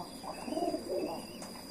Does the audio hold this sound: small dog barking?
no